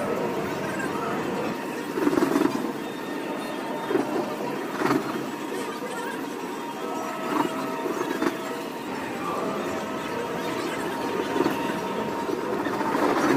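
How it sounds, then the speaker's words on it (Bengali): Steady rumble and rattle of a passenger train running along the rails, continuous throughout with faint voices in the carriage. "ট্রেনে উঠতে পড়েছি, টিটি চলে এসছে চেক করতে।"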